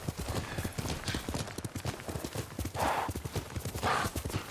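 Hooves clip-clop in a quick, steady gallop close by in the video game Ghost of Tsushima, with a horse snorting briefly near the end.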